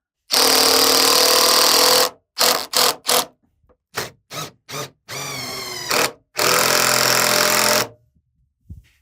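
A power tool drives a screw into a DIY edge sander build: a long whirring burst, a run of short pulsed triggers, a rising whine, then another long burst, loud and close with no talk.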